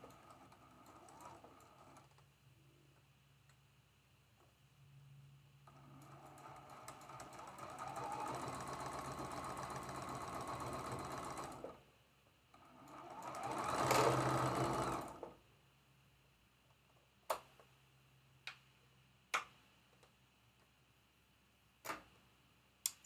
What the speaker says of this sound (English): we're going to sew this seam right here with a 1/4 inch seam allowance